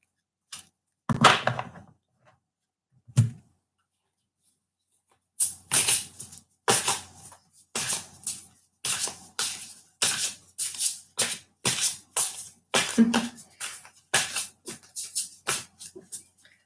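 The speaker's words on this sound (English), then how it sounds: "I'm just shuffling the cards at the moment." Tarot cards being shuffled by hand: a few isolated taps and riffles early on, then a long run of rhythmic, evenly spaced crisp card riffles and slaps, close and clear with no talking.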